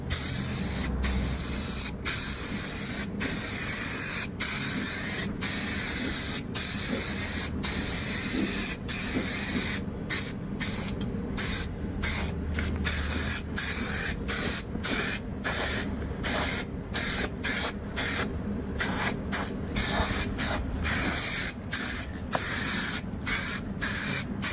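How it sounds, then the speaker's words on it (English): A continuous loud hiss of an aerosol can spraying underseal on a Nissan Navara, steady and close, broken by brief pauses and a run of short rapid bursts in the second half. "So now I'm just going to spray some on here."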